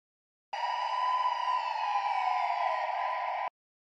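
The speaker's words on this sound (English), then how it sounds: "I have a siren." A synthetic siren tone sounds alone for about three seconds, steady and bright with a slight downward slide, starting and stopping abruptly.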